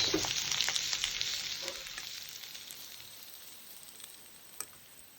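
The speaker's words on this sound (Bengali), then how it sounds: "করলা ভাজি করা শেষ।" Bitter gourd (karela) sizzles steadily as it fries in a pan, a dense bright crackle that slowly fades over a few seconds, with a single small clink near the end.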